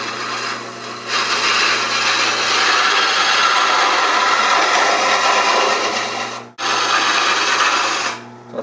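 A gouge on a wood lathe cuts a spinning table leg, giving a loud continuous rough scraping rasp that drops out briefly near the end and starts again.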